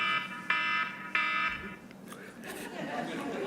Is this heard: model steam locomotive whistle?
no